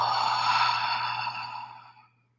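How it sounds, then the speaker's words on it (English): One deep breath flows out through an open mouth during a meditation, a soft, close, airy exhale lasting about two seconds and tapering off into quiet. "Mouth open, letting all the breath just flow right on out."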